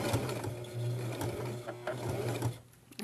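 A sewing machine runs along the seam of a baby hat, its motor humming and needle clattering in a steady run before slowing to a stop near the end.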